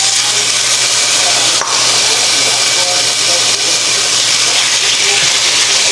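Onions and peppers sizzle in a hot cast iron pan, a loud, steady hiss that stays constant throughout.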